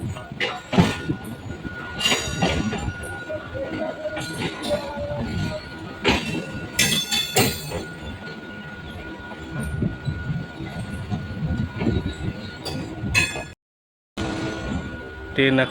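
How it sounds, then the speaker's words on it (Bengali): A train slowly pulls into platform four at Sealdah station, its wheels squealing and clinking under loud, continuous station noise with voices, and a brief cut to silence near the end. "ট্রেন এখন ধীরে ধীরে প্রবেশ করছে শিয়ালদাহ স্টেশনের চার নম্বর প্ল্যাটফর্মে"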